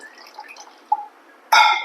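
Water goes into banana fritter batter for pazham pori: a few faint drips, then a short, louder splashing pour at the end.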